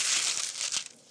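Dry onion skin crinkles and crackles as an onion is peeled by hand in a kitchen, a short close-up burst of papery rustling with no talk.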